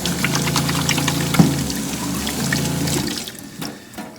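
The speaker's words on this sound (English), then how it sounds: "It's so nice to be able to finally rinse my hands after I do things." Fresh water runs from a boat's tap as hands are rinsed beneath it, a steady close splashing stream with a brief clunk midway before the flow tapers off near the end.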